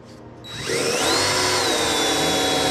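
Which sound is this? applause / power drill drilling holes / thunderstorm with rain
power drill drilling holes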